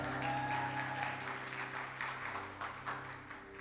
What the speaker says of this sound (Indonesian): Kasih tepuk tangan untuk perawat-perawat kita